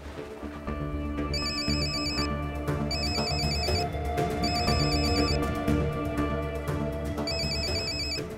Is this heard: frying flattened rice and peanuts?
no